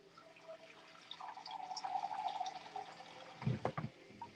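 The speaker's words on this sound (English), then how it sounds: "we're gonna measure out 1 cup of water." Warm tap water from a filtered faucet pours into a small measuring cup, a soft, quiet trickle that swells, then ends in a few faint splashes and clinks.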